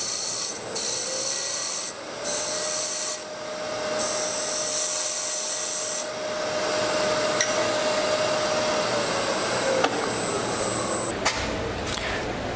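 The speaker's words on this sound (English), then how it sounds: "Now you might hear my air conditioner back there." An air conditioner runs steadily in the background of a woodturning workshop on a hot day, a continuous broadband whoosh with a faint sustained hum, with no talking over it.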